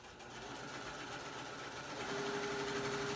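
A sewing machine stitches binding onto a placemat with a small stitch length, a steady quiet mechanical whir running continuously and rising slightly in pitch toward the end.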